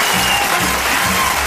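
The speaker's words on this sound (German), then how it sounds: "Was für ein Applaus." Studio audience applauding a comedian's entrance on a television sitcom set, a thick, even roar of clapping that stays loud and constant throughout.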